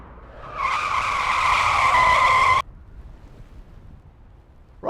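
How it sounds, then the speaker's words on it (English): A 2015 BMW 535d pulls up in an emergency stop, its brakes and tyres giving a loud, sustained screech for about two seconds before cutting off sharply, leaving quiet background hiss. "So if you hear the screech of brakes and me dive out of the way"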